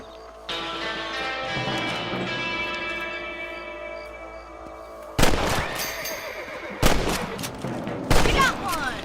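Three loud, close rifle shots fired at rabbits in Red Dead Redemption (2010), spaced about a second and a half apart, following several seconds of steady music.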